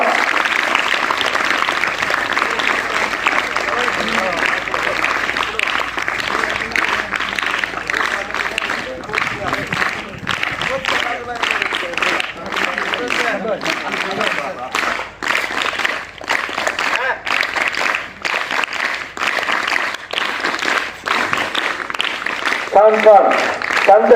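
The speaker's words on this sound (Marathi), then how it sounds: "सर्वांनी जोरदार टाळ्या वाजवायच्या आहे सत्कार पूर्ण होईपर्यंत" Sustained applause from a crowd at a district-level sports competition prize felicitation fills the space as a dense, steady patter, with a voice speaking over it at times.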